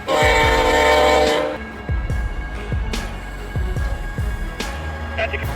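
A loud train horn blares for over a second, then cuts off, leaving rhythmic rail clatter and wheel clicks as the train rolls past.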